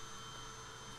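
Vacuum cleaner running steadily in a room, a constant broadband whir with a low hum, continuous and fairly faint throughout.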